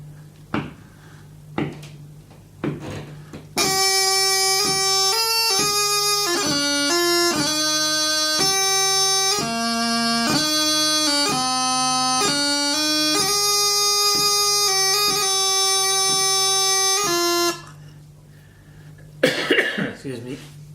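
Highland bagpipe plays one line of a pipe band tune alone for about fourteen seconds, a loud steady drone under bright shifting melody notes, with a few coughs and quiet talk before and after.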